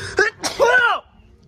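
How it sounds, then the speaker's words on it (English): A single loud, close sneeze bursts out in a Target store, a short sharp intake followed by an explosive nasal blast, then quiet background. "I sneezed just a little loud."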